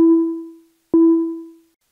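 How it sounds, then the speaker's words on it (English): Two plucked tones from an Arturia MicroFreak synthesizer playing a two-operator FM drone preset, each with a sharp attack and a smooth decay lasting under a second, separated by a short silence. The tones are clean and pitched. "I'm going to make sort of a drone or theremin preset."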